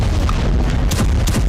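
Deep, rumbling booms from a series of missile strikes on Kerman, Iran, roll through continuously, with a few sharper bursts standing out, like distant explosions shaking the air.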